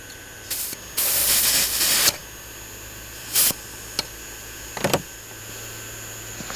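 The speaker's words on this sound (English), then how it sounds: "Now the suction fan is required initially to draw the fire through the boiler to get some pressure up." An electric suction fan drawing the fire on a gauge 1 live-steam garden locomotive, heard as a close, breathy hiss that rises for about a second and then stops, followed by shorter hissing bursts, clicks and a faint steady hum.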